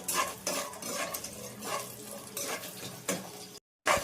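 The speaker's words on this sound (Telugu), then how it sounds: "బిర్యానీ ఆకులు రెండు కొంచెం జీడిపప్పు ఇంకొచ్చి ఫ్రై అవ్వాలి" Cashews, bay leaves and whole garam masala fry in hot oil for Telugu coconut rice, the sizzle rising in bursts as a spoon stirs and scrapes the pan, then stopping briefly near the end.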